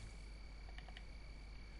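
Crickets chirp in the DayZ video game, a faint steady insect trill with a couple of brief brighter pulses over low background hum.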